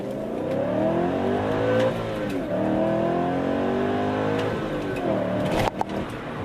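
A car engine revs hard to its 7,000 RPM red line and climbs in pitch repeatedly, with rising harmonic sweeps between manual gear shifts at full throttle, loud and close throughout.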